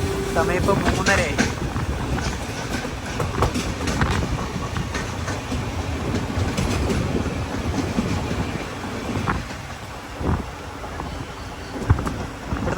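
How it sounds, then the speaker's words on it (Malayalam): Ernakulam–Velankanni biweekly express pulling into Sasthamkotta station, steady carriage rumble and wheel clatter heard from inside, easing somewhat in the second half with a few sharp knocks. "ട്രെയിൻ ഇപ്പോൾ ശാസ്താംകോട്ട റെയിൽവേ സ്റ്റേഷനിലേക്ക് എത്തിയിരിക്കുകയാണ്"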